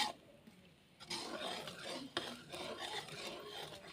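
A spoon stirs thick jaggery syrup in a pot over the fire, for jaggery shakarpare: a close, steady scraping and rasping against the pot that runs continuously for a few seconds, with no talk.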